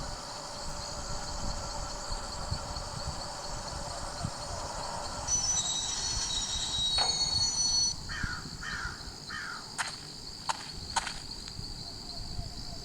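A damaged train in a horror video game rumbles and clanks along steadily with metallic squeals and a few sharp knocks, loud throughout.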